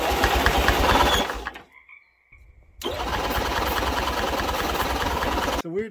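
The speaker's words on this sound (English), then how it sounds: "I'm gonna try to start it with the gas off just to see if it'll pop" A Caterpillar D2 pony engine cranks in a fast, rough chugging rhythm, pauses briefly in near silence, then cranks again at length without catching.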